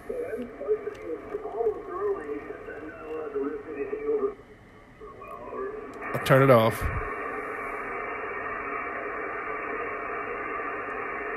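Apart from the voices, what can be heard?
weak SSB ham radio signal with noise on FTdx10 receiver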